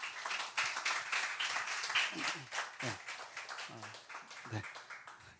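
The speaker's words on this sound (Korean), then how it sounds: "우리 박수로 환영하겠습니다" A church congregation claps to welcome the preacher, a moderate, somewhat quiet round of applause with individual claps showing, while a voice speaks over it partway through.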